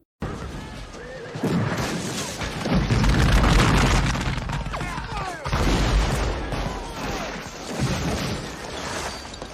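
Civil War cannon artillery and Sharps rifle fire from the Battle of Antietam: heavy booms and crackling volleys roll in several loud waves, each blast trailing off before the next.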